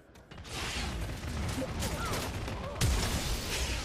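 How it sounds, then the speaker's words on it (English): Rapid gunfire from the LawBreakers shooter game rattles on steadily as a dense, continuous volley, with in-game voices and effects mixed in. "They're shooting at us."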